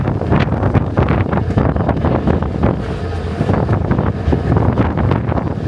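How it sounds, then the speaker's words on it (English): Loud, continuous strong wind buffeting a phone microphone on a New York City street, a rumbling roar with gusty bursts throughout and no voices. "I hope the wind doesn't knock the phone out of my hand. It's actually quite windy."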